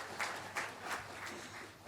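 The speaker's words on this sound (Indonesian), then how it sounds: "tepuk tangan buat Nuri ART" Applause from a comedy roast audience for Nuri, a steady wash of clapping with a few louder swells throughout, heard without any voices over it.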